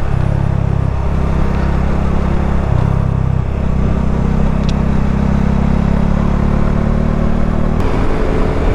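Motorcycles ride together along the winding MARILAQUE highway through Rizal, banking into curves, their engines making a loud, continuous drone that shifts in pitch as they move, with no voices.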